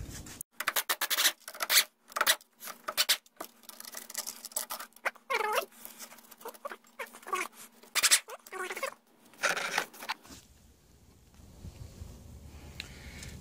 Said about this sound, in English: now I'll take the water pump off and the shift rod.